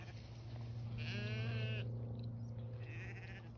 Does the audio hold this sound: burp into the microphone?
no